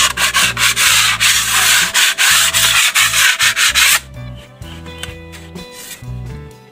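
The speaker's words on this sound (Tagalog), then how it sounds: "kailangan pasadaan muna ng liha bago batakan ng buo" Steady back-and-forth sandpaper rubbing on a surface coated with Acrytex primer, loud and close, with music playing underneath; the sanding stops partway through and the music continues.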